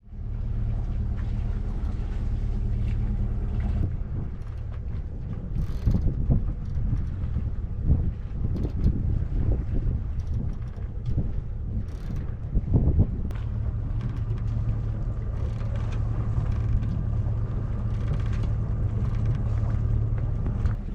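A sailboat motoring under its engine at 1000 RPM in light wind, a steady low engine drone and hull rumble throughout with gusty wind buffeting on the microphone in the middle, continuous and close.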